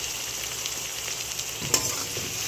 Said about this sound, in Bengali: এদিকে আমার পেঁয়াজটাও ভাজা হচ্ছে